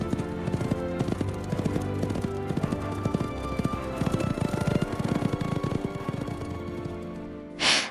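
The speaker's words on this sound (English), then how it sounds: "Then he mounted the great copper horse and rode away through the dark hills to a secret place known only to himself." Hooves of a great horse clip-clop at a steady trot as it rides away, a dense rhythmic clatter that holds for several seconds before ending in a short breathy burst.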